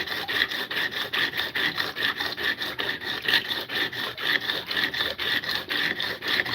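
A tool's bevel is ground back and forth on a 200-grit sharpening stone, with a steady rhythmic rasping scrape of about three strokes per second, close and alone.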